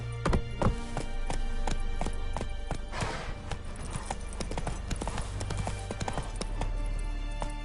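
A horse gallops in The Witcher 3 on PS5, its hooves clip-clopping in a quick, steady rhythm at close range alongside game ambience, with a faint whinny.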